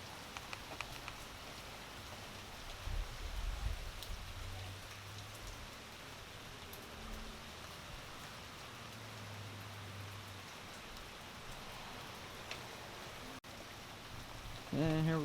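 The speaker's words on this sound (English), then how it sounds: "Rain is letting up a little bit now." Steady rain from a tropical storm rain band falling and splashing on surfaces outdoors, continuous and even, with a faint low rumble and a few brief bumps.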